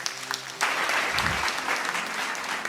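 A hall audience at a yoga event clapping, steady dense applause from many hands filling the room, with a brief voice underneath.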